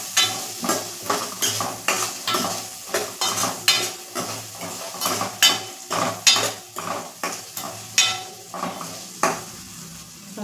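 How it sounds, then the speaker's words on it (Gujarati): Eggplant and potato curry seasoned with salt and turmeric gets stirred in a metal pot, a spoon scraping and clinking in a steady rhythm of repeated strokes over a soft sizzle, close and clear with no speech. "પછી મીઠું અને હળદર એડ કરી તેને બરાબર મિક્સ કરી લેશું।"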